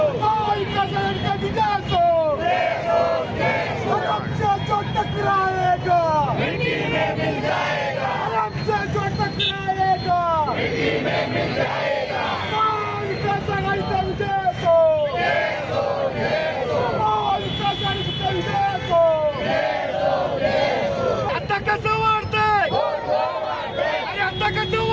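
Crowd of party workers and office-bearers celebrating an election victory at a town square, loud rhythmic slogan shouting with many voices chanting together continuously throughout.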